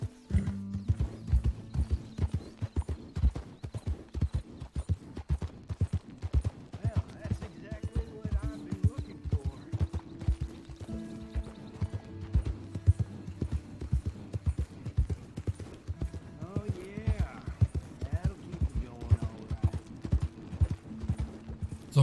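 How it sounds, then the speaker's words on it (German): A herd of wild horses gallops in Red Dead Redemption 2, hooves drumming in quick, continuous clip-clop rhythms, with occasional whinnies rising over the thunder of hooves. "Oh, jetzt sind wilde Pferde."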